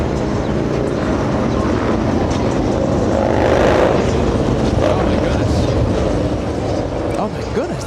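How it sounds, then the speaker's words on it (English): A UPS Boeing 767 taxis at a busy airport, its loud, steady jet engine roar filling the air close by, while people talk beneath the noise. "We also have a UPS 767 taxiing right behind it."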